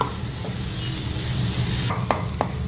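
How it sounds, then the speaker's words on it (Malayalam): Tomato cooking in a pan for chicken keema, a continuous close sizzle with a couple of sharp spoon scrapes toward the end, no speech. "ഇത് നന്നായിട്ട് ഈ ടൊമാറ്റോ ഇതിൽ കിടന്ന് നല്ല സോഫ്റ്റ് ആവുന്നത് വരെ ഇടയ്ക്കിടയ്ക്ക് ഇളക്കി കൊടുത്ത് കുക്ക് ചെയ്യുക"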